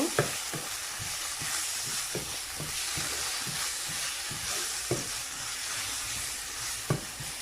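Spices and green chilli fry in a pan with a steady hiss and sizzle, while a spoon scrapes and stirs in repeated clinks throughout.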